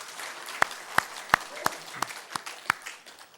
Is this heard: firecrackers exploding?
no